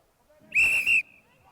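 An umpire's whistle at a polocrosse match, one sharp, shrill blast with a brief break in the middle, loud and close over faint background noise.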